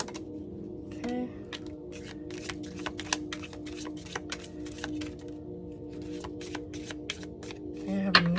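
A deck of cards is shuffled and dealt in repeated quick riffles and flicks, close by, with a steady low hum and room tone underneath and a voice speaking around it.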